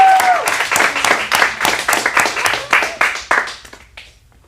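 An audience at a teen acting showcase in a Phoenix studio gives a burst of close, lively clapping that gradually thins out and fades over several seconds.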